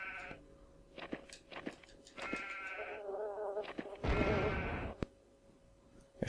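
Cartoon sheep bleats from the video game Worms 3D, several short bleats in quick succession followed by a louder burst of crunching, all fairly close and clear with no talk over them.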